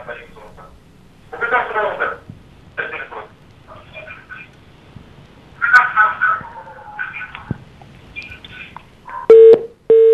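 Telephone line tones come through during a live TV call-in broadcast, with faint, crackly line noise and garbled voice fragments, then a steady electronic tone near the end.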